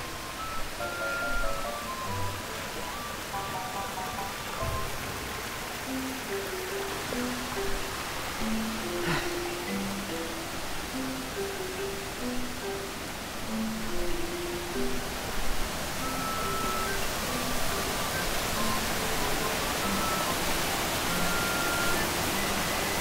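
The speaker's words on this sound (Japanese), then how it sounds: "あ、滝がありました。" Hiryu Falls in Hakone, a waterfall on a rocky mountain trail, gives a steady broad rushing roar that fills the whole stretch at an even level, with no one talking.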